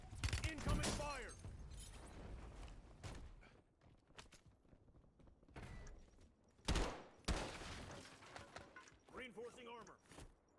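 Call of Duty: Warzone gunfire arrives as several close, sharp bursts of shots separated by quieter stretches, with in-game voices speaking between the volleys.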